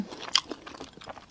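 Close, quiet biting and chewing of fish-fragrant eggplant, a few soft wet crunches and mouth sounds in quick succession with no talk.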